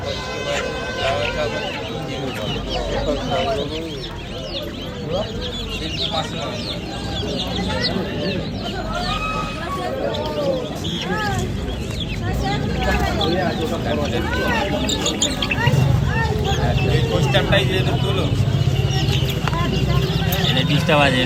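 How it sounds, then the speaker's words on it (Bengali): Chinese chicken chicks at a poultry and pet market cluck and peep in a steady, busy chorus close by, with voices of people talking mixed in throughout. "এখানে দেখতে পাচ্ছেন চীনা মুরগির বাচ্চা আছে দেখুন"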